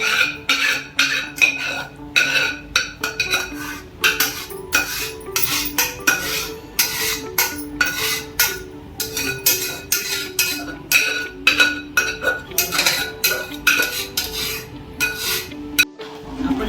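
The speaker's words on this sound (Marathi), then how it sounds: "आता हे आपण या दुधामध्ये टाकणार आहोत आणि छानपैकी मिक्स करून घेणार आहोत" A rice mixture is stirred into reduced milk for traditional rice kheer, a continuous rhythmic scraping and clinking of a spoon against the pot, close and fairly loud with no talking.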